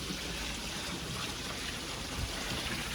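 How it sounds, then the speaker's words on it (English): Close, steady splashing and trickling of a koi pond waterfall, with a continuous even wash of falling water and no talk. "Lovely waterfall."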